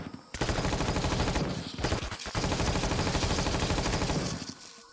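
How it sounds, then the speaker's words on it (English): Sustained rapid machine gun fire in the space survival game Empyrion Galactic Survival, loud and continuous, with a brief gap near the middle before the automatic bursts resume and then taper off. "That's that machine gun done."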